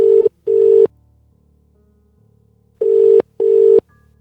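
Telephone ringback tone: two pairs of loud, close electronic rings separated by a long pause, each pair made of two short bursts, with a faint low hum between them.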